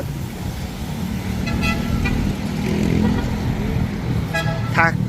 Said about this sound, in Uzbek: Taksi xizmati mana shunaqa uch oyoqli va mototsikllar bilan ishlaydi.